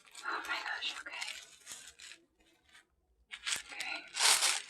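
Tissue paper being torn and crinkled while a luxury Chanel purchase is unboxed, close and crisp rustling bursts with a brief quiet gap in the middle.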